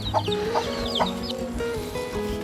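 Chickens cluck around a house yard in the Philippines, several short bright clucks spaced about half a second apart over a low, steady background hum, near and moderately loud.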